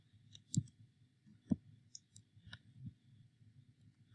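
Buttons tapped on a calculator, a handful of sharp close plastic clicks in an irregular rhythm over quiet background.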